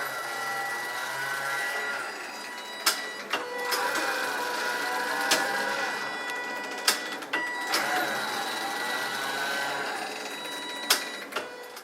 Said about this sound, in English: And then it's going to start knitting with some rows of waste yarn to begin with.